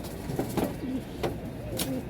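Domestic pigeons of an Australian breed coo softly in a loft, a few low, short throaty calls at moderate distance among faint background noise.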